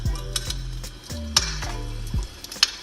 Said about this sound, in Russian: Это звук потрескивания дров.